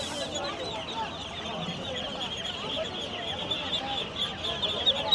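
Chinese ducklings at a busy market cheeping and peeping continuously, mixed with market chatter and people talking in the background.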